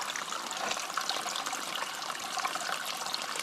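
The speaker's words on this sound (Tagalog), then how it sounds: "ibabad po natin yung itlog dito sa may mainit na tubig." Water from a steaming hot spring, where eggs are being soaked to cook, trickles and bubbles in a continuous hiss, steady and fairly close, with no voices over it.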